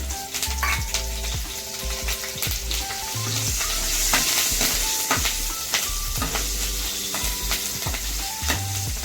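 Green chillies sizzle and fry in a spoonful of hot oil with asafoetida while making palak sabzi, a steady close crackle with occasional stirring scrapes and clinks throughout.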